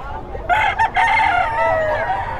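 A four-year-old Sweater breed rooster on a farm in Bocaue, Philippines crows close by, loud and drawn-out with a wavering tone, in one long call over steady background noise.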